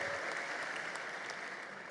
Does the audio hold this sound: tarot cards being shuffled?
no